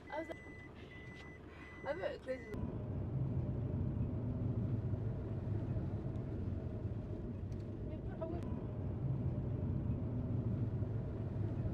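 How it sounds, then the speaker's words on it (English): A transport bus carries passengers on a school trip. A steady, loud low engine rumble runs throughout, and a few short beeps and clatters come at the start. "It's a really nice bus."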